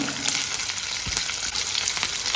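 Chopped green chili and garlic sizzle in hot oil while Kovakka (ivy gourd) fry is being cooked, a close, steady crackling fry with scattered sharp pops and light stirring, no talking.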